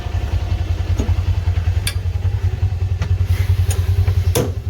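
A Kubota Sidekick 850 UTV engine chugs loudly and steadily at close range while pulling a log out, with a few sharp clanks and clatters over the pulsing drone.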